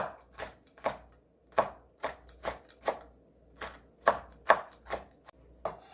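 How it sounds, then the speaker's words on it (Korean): A knife chops Cheongyang and red chili peppers on a cutting board in a steady run of sharp, close taps, roughly two per second, with brief uneven pauses. "홍고추 작은 감기하고 청양고추 두 개 송송송송 썰어줍니다"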